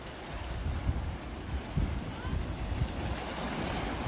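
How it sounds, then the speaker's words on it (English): Ocean waves break and wash along the coast near Botany Bay as the tide comes in. The surf is a steady, broad rush with soft surges, and wind buffets the microphone. "I'll leave you with the waves."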